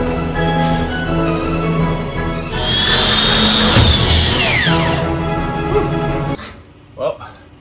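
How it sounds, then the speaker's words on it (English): A power drill bores out the lock on a storage locker, a loud whining grind that rises and bends in pitch for several seconds, then stops abruptly, leaving a few faint knocks. "Gotta get this other side drilled out."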